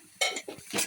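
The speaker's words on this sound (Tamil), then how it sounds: "நல்லா கலந்து விட்டுக்கோங்க மசாலாவெல்லாம்" A spoon working masala around a pan during fish cooking, three quick metallic scrapes and clinks close by in under a second, with no voice over them.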